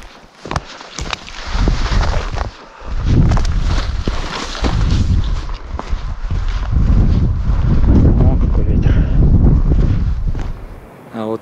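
Gusty wind and rain batter a mountain ridge in the Khamar-Daban range, loud buffeting bursts rising and falling against the microphone in heavy waves, with a voice briefly heard early on.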